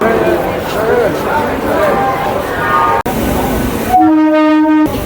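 A Howrah–Sheoraphuli local train rumbles at platform 6 of Howrah station with voices in the background, then a long, loud horn blares near the end.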